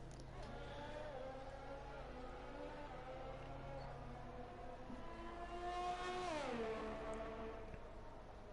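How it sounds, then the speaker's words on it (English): High-revving F1 racing car engines from the F1 2020 video game at the Bahrain race, a steady layered drone of several cars with one engine note climbing and then dropping sharply as it shifts, continuous and fairly quiet throughout. "Hopefully the noise of the cars aren't too overpowering, but it is an F1 game"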